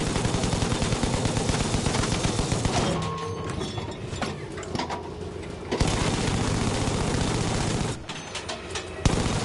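A mounted flak-style machine gun in a video game fires long, loud rapid bursts, pausing briefly mid-way before resuming sustained automatic fire, with a short break near the end.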